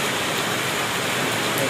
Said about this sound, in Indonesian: Karena keadaan hujan, jadi kita di sini menunggu sampai hujan berhenti.